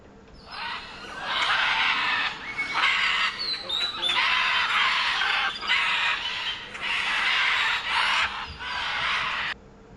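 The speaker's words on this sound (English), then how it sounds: "White-throated magpie jay." A white-throated magpie jay in Honduras gives loud, harsh squawking calls in rapid repeated bursts, close and continuous for several seconds with only short gaps.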